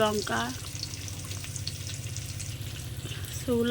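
Dried red chillies fry with onion and garlic in hot oil, giving a steady close sizzle, and a short vocal sound is heard at the start and again at the end.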